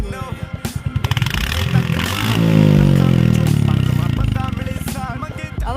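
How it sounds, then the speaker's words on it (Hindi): A Royal Enfield Hunter 350 motorcycle with its stock exhaust thumps at idle, then revs up in a rising, sustained roar before settling back to a close, steady putter, with someone talking briefly. "350 रॉयल एनफील्ड और आज हम करने वाले हैं इसका एग्जॉस्ट टेस्ट।"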